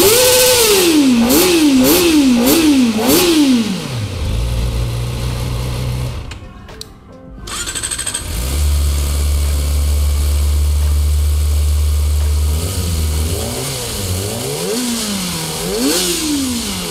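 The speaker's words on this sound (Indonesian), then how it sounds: "Geberannya juga RPM-nya tuh naiknya jauh lebih cepat daripada ZX25." A Kawasaki ZX-4RR motorcycle engine revs loudly and repeatedly in quick rising bursts, drops to a low idle, cuts out briefly, then idles and revs again, close and alone.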